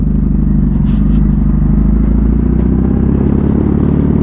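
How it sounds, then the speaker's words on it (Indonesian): A 2019 facelift Kawasaki W800 motorcycle riding with its exhaust note droning steadily, a loud, low, continuous rumble with faint clatter on top. "Suara knalpotnya saya demen banget."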